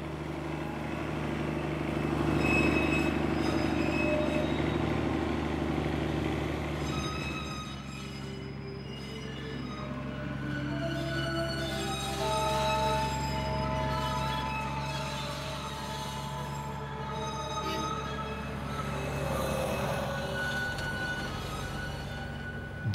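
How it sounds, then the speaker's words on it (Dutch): A Himalayan toy train's diesel engine drones steadily and rumbles as it climbs slowly between Siliguri and Ghum, with layered horn-like tones sounding over the engine noise. "Dieseldampen blazend en hard toeterend komt de trein langzaam hoger"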